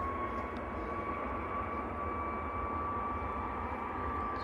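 A Ryanair jet taking off from Manchester Airport bound for Tenerife gives a faint, steady engine roar with a thin high whine, distant and unchanging.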